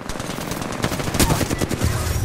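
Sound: gunfire in the video game Apex Legends

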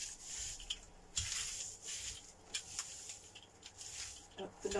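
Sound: rolling a brayer over a gelli printing plate

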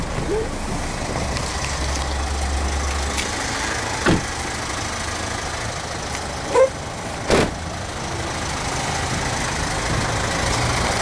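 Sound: Hyundai car engine idling after push-button start

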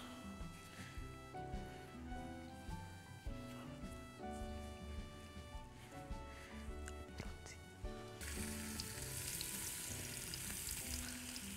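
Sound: floured beef pieces searing in olive oil

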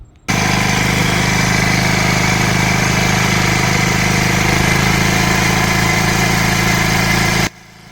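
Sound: generator-powered brick mixing machine with motor running

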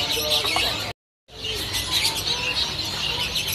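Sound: young cipoh bird chirping at bird shop

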